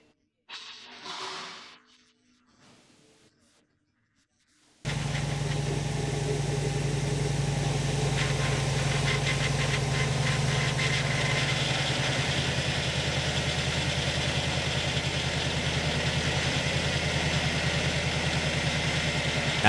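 Ford F-150 engine starting and idling steadily while the power steering system is bled after a rack and pinion replacement; a quiet stretch of faint handling noise, then a constant low engine drone that continues to the end.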